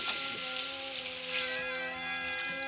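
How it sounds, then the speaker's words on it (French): Cartoon rain from a malfunctioning weather machine in the Smurfs village, a steady hiss of falling drops under a sustained musical score, with no voices. "Impossible de créer sous la pluie."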